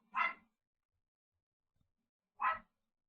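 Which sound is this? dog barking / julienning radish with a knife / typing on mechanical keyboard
dog barking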